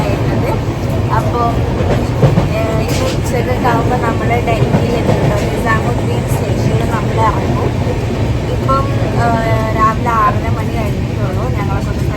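Steady rumble of a moving train from inside a carriage, with voices chattering faintly over the continuous rolling noise.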